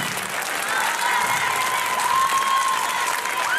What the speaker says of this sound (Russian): Ну и, конечно же, аплодисменты нашему вокалисту Роман Болдузев.